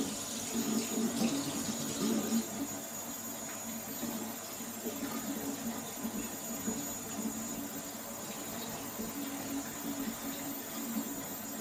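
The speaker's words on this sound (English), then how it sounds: "Run it under the hot tap." A hot tap runs steadily into a sink, a continuous hissing splash of water that holds at an even level throughout, close by.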